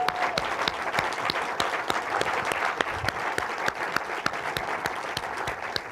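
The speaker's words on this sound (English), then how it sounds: "Let's give this man a round of applause." A crowd at a New York documentary film premiere gives a round of applause, with crisp individual claps standing out sharply from a full, loud bed of clapping that continues without a break.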